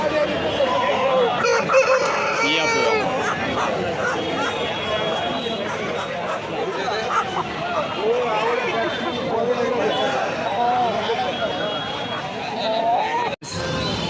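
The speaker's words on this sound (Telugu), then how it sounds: "ఇవైతే సోనాలి కోళ్ళు" Sonali breed chickens and roosters at the Pavagada poultry market crow and cluck repeatedly close by, amid a busy background of crowd chatter and voices.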